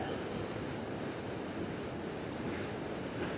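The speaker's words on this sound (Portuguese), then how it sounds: "Ah, olha as corredeiras ali." River rapids rush past at a wet crossing in Limoeiro do Norte, Ceará, a broad, constant roar of churning water heard close, with some wind buffeting and no talk.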